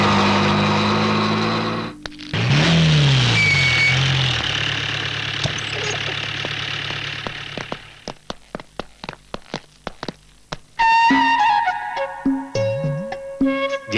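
A car engine idles and then revs as the vehicle pulls away, loud and close at first and fading out, followed by a series of sharp knocks and a brief burst of noise.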